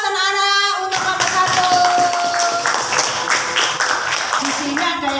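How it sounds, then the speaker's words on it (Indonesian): Children in a classroom applaud a group of classmates with steady, dense clapping that lasts several seconds, while voices talk over it. "Beri aplaus anak-anak untuk kelompok"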